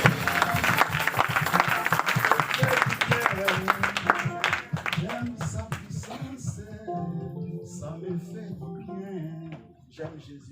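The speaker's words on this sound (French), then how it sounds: "Ok, on acclame Jésus." Church congregation applauding and acclaiming Jesus during a New Year's prayer service, dense rhythmic clapping loud at first then thinning, mixed with voices calling out and singing.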